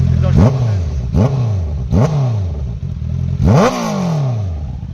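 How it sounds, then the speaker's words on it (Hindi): A Kawasaki Z900 and a Honda CBR650R motorcycle rev in loud, close exhaust blips, four sharp throttle bursts that rise quickly and fall away, with the engine idling in between. "तो आपने दोनों का एग्जॉस्ट नोट सुना।"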